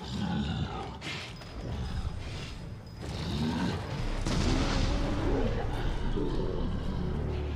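A bomb explosion in Resident Evil 7 Biohazard, set in a mine: loud booming blasts and a long rumbling roar, with creature-like growling sweeps layered over the heavy low din.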